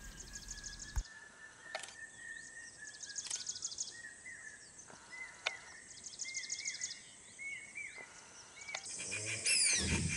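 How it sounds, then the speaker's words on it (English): A Jacobin cuckoo repeats loud, ringing two-note calls over a steady drone of insects, with other faint birdsong in the distance, in Panna National Park, Madhya Pradesh, India. "hear the sound of the Jacobean cuckoo in the background"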